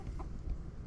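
Cuckoo Marans hens give a few soft, close clucks over a low background rumble in a backyard flock.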